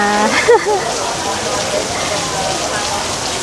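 Rain falls steadily at Wat Arun in Bangkok, a broad even hiss of drops over the riverside scene, with a brief tonal sound near the start.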